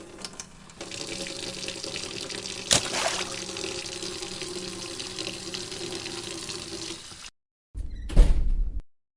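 Tap water runs steadily into a sink as someone washes their face, a continuous splashing stream for several seconds that stops abruptly, followed by a short burst of louder splashing.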